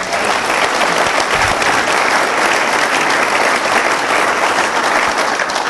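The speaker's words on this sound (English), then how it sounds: "can we get one more round of applause?" Dense, loud applause fills a hall at a South Carolina economy event honoring Governor Nikki Haley, a sustained wash of many hands clapping with no pauses.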